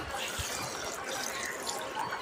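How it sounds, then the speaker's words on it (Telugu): Water is poured onto soaked rice in a pressure cooker for vegetable pulao, making a faint, steady splashing hiss that runs through the whole moment. "తర్వాత బియ్యంకి సరిపడా వాటర్ వేసుకోవాలి"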